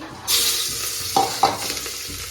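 Onion is dropped into hot oil tempered with cumin and asafoetida, crackling into a loud sizzle that flares twice more with stirring, no voices.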